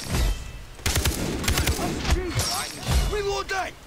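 Rapid bursts of gunfire in the video game Far Cry, loud and close, with several quick shots clustered together and someone talking in between.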